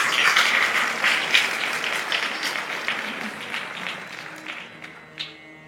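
Audience at a religious discourse breaking into loud, dense applause that gradually thins and fades out over several seconds, with a few scattered claps at the end.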